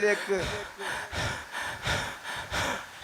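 A voice imitates a horse's heavy panting: five rhythmic, harsh breaths pushed out in quick succession, close and fairly loud.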